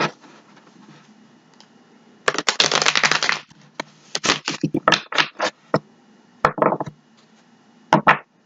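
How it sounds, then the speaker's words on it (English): A deck of tarot cards is shuffled by hand in close, crisp bursts of riffling and flapping, with short pauses between the rapid flurries of card noise. "Let's give it one more shuffle."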